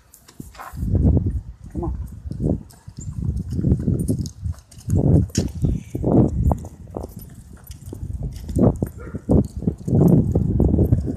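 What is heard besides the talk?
horse hooves clip-clopping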